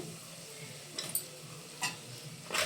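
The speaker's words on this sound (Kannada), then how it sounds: "ಆ ಪೌಡರ್ನ ಈ ಒಗ್ಗರಣೆಗೆ ಹಾಕ್ತಾಯಿದ್ದೀನಿ" Spoonfuls of puliyogare spice powder drop into a hot tempering in a pan, with faint sizzling and a few short stirring scrapes and clinks against the metal, quiet and close, no talking.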